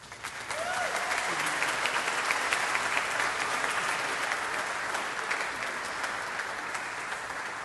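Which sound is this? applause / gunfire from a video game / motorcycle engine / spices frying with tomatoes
applause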